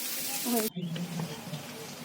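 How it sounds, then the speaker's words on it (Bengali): Brinjal slices fry in a pan in a home kitchen, giving a steady close hiss and sizzle with a voice talking over it. "কিছু বেগুন ভাজতে শুরু করে দিয়েছে"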